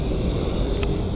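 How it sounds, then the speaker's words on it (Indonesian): A small Harapan Jaya bus passes along an Indonesian road, heard as broad rumbling traffic noise. Wind buffets the microphone, and nobody speaks. "Kemudian ada bis kecil Harapan Jaya."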